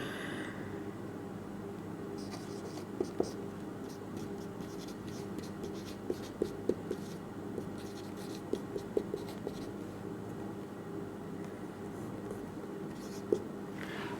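Steady scratching of writing on a board while working through quadratic equations, faint and continuous with a few louder taps, under a quiet room hum.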